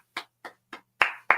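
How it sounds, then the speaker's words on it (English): Five sharp hand claps, the first three evenly spaced and lighter, the last two louder and closer together, with no voices. "Claps, claps, claps for Terry McLaurin."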